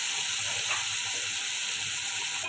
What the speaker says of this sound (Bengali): নুন হলুদ মাখানো চিংড়ি মাছটা ভেজে নেব।